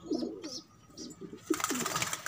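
Pigeons cooing up close, a series of soft throaty coos repeating every half second or so, joined near the end by a brief rustle of movement.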